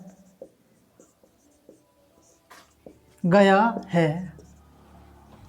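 Writing on a board while a die is drawn for a reasoning lesson: sparse, soft tapping strokes spread through the first few seconds, then someone speaks clearly over the final part.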